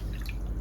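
Water added to sugar in a pan to make gulab jamun syrup, a brief close splash and drip lasting under a second.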